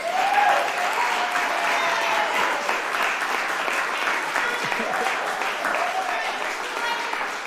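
An audience at a New Jersey grant award announcement breaks into sustained applause and cheering, a dense, loud wash of clapping that holds steady throughout, with a few whoops rising briefly near the start.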